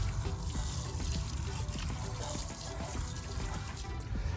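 Water streams steadily from a hose over a hot car wheel being rinsed during a wash, a continuous close splashing hiss with no pauses.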